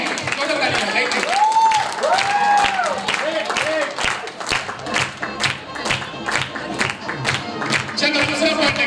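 An audience at an Indian leadership development seminar breaks into loud, sustained applause, dense overlapping claps filling the room, with a few cheers and voices mixed in and occasional brief tonal sounds above the clapping.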